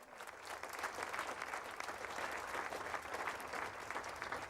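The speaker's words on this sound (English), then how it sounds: "Annie applauding herself" Quiet, steady applause during a breast cancer segment on a TV morning show, with Annie clapping along for herself, a soft continuous patter without speech.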